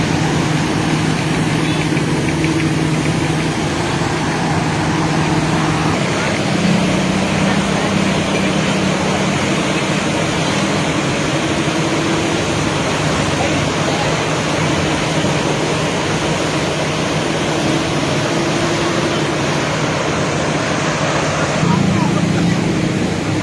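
Engine-driven pumps at a flood control pumping station run continuously, a loud, steady low drone with broadband rushing noise from discharging water, holding constant with slight tonal shifts throughout.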